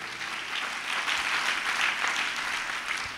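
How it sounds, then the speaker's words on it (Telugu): Loud, steady clapping from a church congregation at a Telugu Christian sermon, a dense burst of applause lasting a few seconds with no speech over it. "చప్పట్లు కొట్టండి గట్టిగా"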